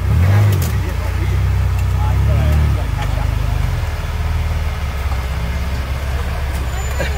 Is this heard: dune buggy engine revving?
yes